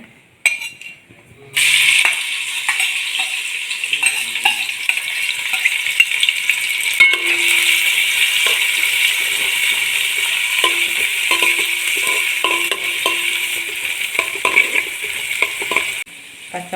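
Crushed shallots sizzle steadily in hot coconut oil for Kerala-style chicken thoran, a bright continuous frying hiss with occasional stirring clinks, starting abruptly after a quiet moment and holding close and loud.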